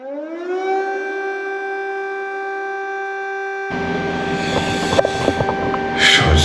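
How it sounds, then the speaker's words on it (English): A loud wailing siren rises to a sustained, steady tone and holds, with rustling and handling noise joining partway through. "I was woken up by a loud siren noise."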